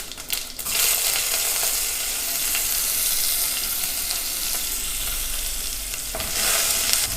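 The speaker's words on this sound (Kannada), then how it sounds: "ಈಗ ಒಗ್ಗರಣೆಗೆ ಒಂದು ಅರ್ಧ ಸ್ಪೂನಷ್ಟು ಸಾಸಿವೆ ಹಾಕ್ತಾಯಿದ್ದೀನಿ, ಒಂದು ಅರ್ಧ ಸ್ಪೂನಷ್ಟು ಜೀರಿಗೆ ಹಾಕ್ತಾಯಿದ್ದೀನಿ." Mustard seeds, cumin and garlic tempering in hot oil make a loud, steady crackling sizzle. Brief stirring and clinks occur near the start and end of the clip, and nobody speaks.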